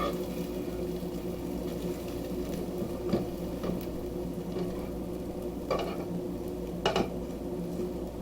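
A spatula slides under a very large stuffed pancake in a pan, making light metallic clinks and scrapes against a steady kitchen background, with a few sharper taps near the end.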